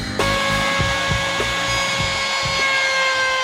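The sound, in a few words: router cutting a chamfer on an edge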